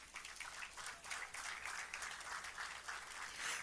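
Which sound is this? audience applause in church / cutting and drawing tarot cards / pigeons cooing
audience applause in church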